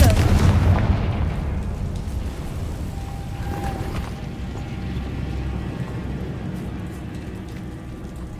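Fire spell blasts from the Hogwarts Legacy game, a loud booming burst at the start followed by a long rumbling roar and crackle that slowly fades over several seconds.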